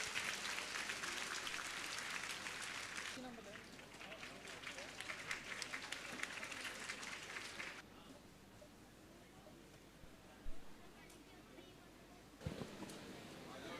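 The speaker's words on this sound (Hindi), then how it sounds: "एक बार फिर से जोरदार तालियां बजा दीजिए आदरणीय जय किशोर जी के लिए" Enthusiastic audience applause at a motivational session for Jaya Kishori in Kota, a dense, steady clatter of many hands for about eight seconds that then drops away, leaving quieter room noise with a couple of brief thumps.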